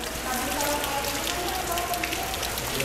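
Rain pours steadily outdoors, a dense continuous hiss of drops striking surfaces that stays loud and even throughout.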